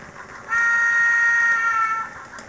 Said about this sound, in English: Obviously, there's another train coming soon because there's a lot of people on the platform here.